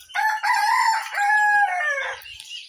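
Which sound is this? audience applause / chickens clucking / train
chickens clucking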